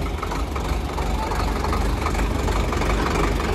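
A new Indofarm 3055 tractor engine idling close by, a steady loud diesel rumble with a rapid knocking pulse that holds even and unbroken throughout.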